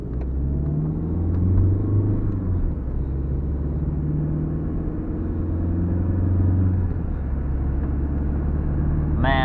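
A BMW car drives at night with a low engine rumble rising and easing in repeated waves of acceleration, heard from inside the cabin, with a brief voice at the end.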